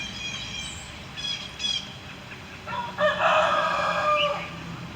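A rooster roams a park and crows, with a few short broken calls early on, then a long, loud, clear crow near the end against a quiet background.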